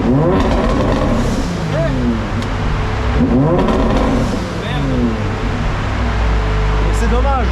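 A BMW drift car's engine revs hard with anti-lag crackle on launch, loud and close, the pitch rising and falling in repeated sweeps while people talk over it.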